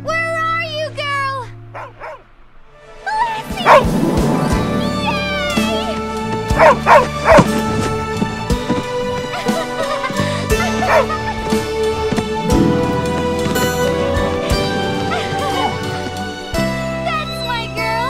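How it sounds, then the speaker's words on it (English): Lassie the collie barks in a cartoon, with repeated yips and barks scattered over a busy animated soundtrack of music and effects, while characters talk alongside. "Lassie! Where's Lassie?"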